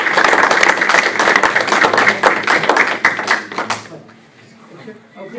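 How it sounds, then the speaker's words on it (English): Audience clapping at a school district board meeting, brisk and loud for about four seconds before trailing off into quiet room tone. "And if we could get a round of applause,"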